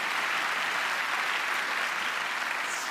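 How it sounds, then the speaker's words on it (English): Audience applause for the speakers at a corporate executive session, steady and dense clapping across the whole clip, fairly distant and even in level, with no talking over it. "Can you give one more round of applause for our incredible speakers?"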